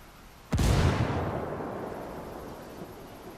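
A frag grenade goes off in a shooter video game: one sudden loud blast followed by a long rumbling decay that fades over a few seconds, with no voices over it.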